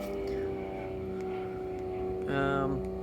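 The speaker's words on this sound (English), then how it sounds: "Another aeroplane going past." An aeroplane passes over a backyard, a steady low engine drone that swells louder near the end, heard in the distance under a quiet outdoor background.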